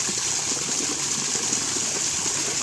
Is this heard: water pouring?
yes